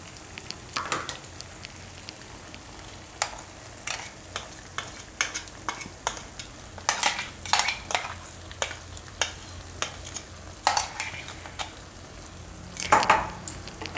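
Coconut potato curry mixed with green coriander chutney in a frying pan, stirred with repeated scraping strokes and soft clinks of a utensil against the pan over a low, steady sizzle, with no one talking.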